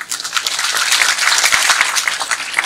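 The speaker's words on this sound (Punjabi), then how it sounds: "ਜੇ ਚੰਗਾ ਲੱਗਿਆ ਤਾਂ ਤਾੜੀ ਮਾਰ ਦਿਓ" An audience claps after a Punjabi stage play, a short burst of dense applause from a crowd, fairly loud and close, with no speech over it.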